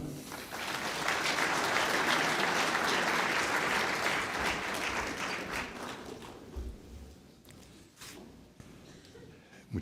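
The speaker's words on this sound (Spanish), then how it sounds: "Recibamos con un fuerte y cariñoso aplauso" Audience applause for an architect introduced as keynote speaker at an inter-American construction industry congress in Peru, a full dense wash of clapping that holds steady for several seconds, then thins and fades into scattered claps.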